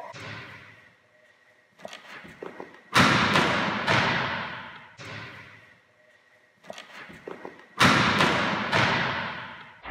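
A volleyball jump serve lands in two loud, sharp hits with echoing decay, each preceded by softer thuds in a repeating rhythm.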